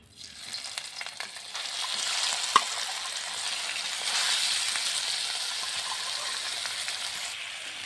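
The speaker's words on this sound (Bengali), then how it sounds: "এখন আমরা এই মাংসটা কিছুক্ষণ ভেজে নেব।" Steady crackling sizzle of marinated chicken frying in hot oil, continuous and fairly close, with a brief sharp clink partway through.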